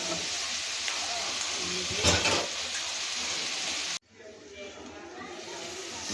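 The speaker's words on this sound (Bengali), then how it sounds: "ভালো করে একটু নাড়াচাড়া করে নিব" Pabda fish fries in salted oil as it is stirred in a pan: a continuous close sizzling hiss with a brief scraping stir near the middle, then the sizzle drops to a quieter, thinner crackle.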